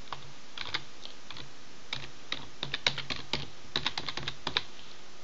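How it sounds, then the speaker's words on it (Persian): Computer keyboard typing, loose bursts of quick clicks with short pauses, close and clear in a quiet room with no talk. "من اینجوری تایپ کنم ببینم"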